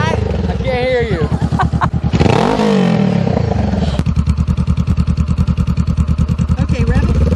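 A 2018 Honda CBR500R with a shorty slip-on exhaust revs hard and loud, its throttle blipping repeatedly with a rapid pulsing idle in between, while voices talk over the engine.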